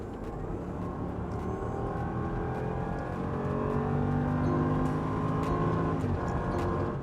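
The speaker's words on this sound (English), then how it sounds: "A proper V8 growl, and it's butter smooth." Land Rover Defender with a 5.0-litre V8, heard from inside the cabin: a steady, deep engine drone with a rich layered rumble that swells slightly in the middle, continuous and fairly loud with no talking.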